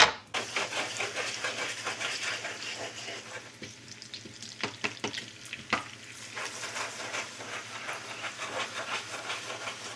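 Pasta sauce bubbles and sizzles in a pan with a steady crackling hiss, interrupted by a few scraping stir sounds, close and moderately quiet.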